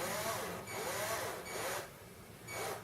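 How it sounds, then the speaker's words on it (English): A power drill re-grinding electric shaver blades whirs at low speed in several rising and falling pulses, fairly quiet against background hiss. "we put the power drill in low speed"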